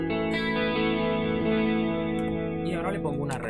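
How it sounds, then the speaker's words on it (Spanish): Electric guitar patch on a Zoom G5n multi-effects unit with compressor, stereo chorus and ping-pong delay, sustained chords ringing with echoing repeats bouncing across a continuous, moderately loud tone, ending with a few fresh plucked notes. "Ahora le pongo un ping pong delay."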